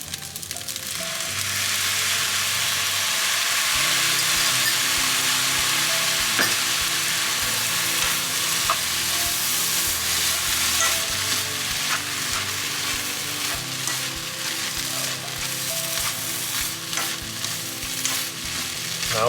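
Seafood black rice fries with sauce in a hot pan, giving a steady, close, broadband sizzle with occasional stirring scrapes and pops throughout, no voices.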